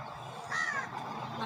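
Crows cawing at winter dusk over foggy Kolkata, a short burst of harsh caws at moderate distance standing out above a low, steady background murmur.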